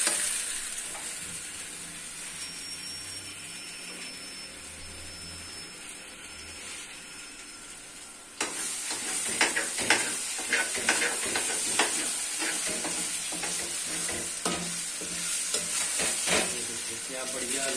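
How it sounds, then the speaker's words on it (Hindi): Halwa is roasted in oil in a pan. Quiet at first, it then breaks into close scraping and stirring strokes over a steady sizzle that continue rhythmically to the end. "ऑयल इसने छोड़ दिया और हमने इसे भून भी लिया अच्छे से।"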